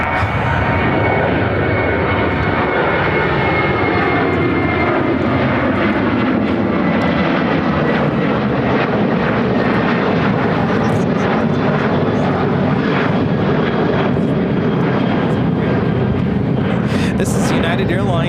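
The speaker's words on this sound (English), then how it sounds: "2282 taking off to Traverse City on the 737-700." United Airlines Boeing 737-700 departing Chicago O'Hare for Traverse City, a loud, continuous jet roar with a falling tonal sweep as it passes, steady throughout with no break.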